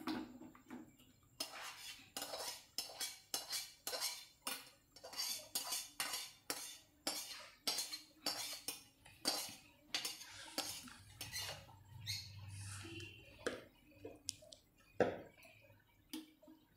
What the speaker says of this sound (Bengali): নাবিয়ে অন্য পাত্রে ঢেলে নিচ্ছি।